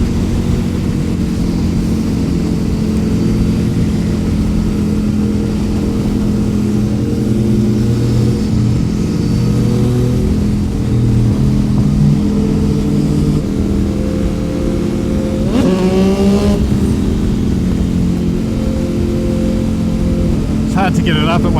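Motorcycle exhaust on a ride to Auckland, from an MT-09 SP, XSR 700 or Street Triple RS, a steady deep engine drone with wind noise throughout and a brief rising rev near the end.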